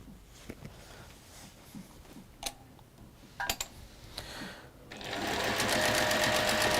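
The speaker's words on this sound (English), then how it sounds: "we're going to sew 1/4 inch either side of the lines" A sewing machine stitching quilt seams a quarter inch either side of marked lines starts up and runs steadily in a continuous close whirr after a few light ticks and clicks.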